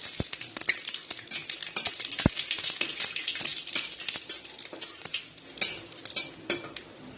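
Whole spices (bay leaf, cinnamon, cloves, cardamom) and cumin sizzle in hot oil for tempering: a steady crackling fizz close by, with scattered ticks and spoon clinks against the pan.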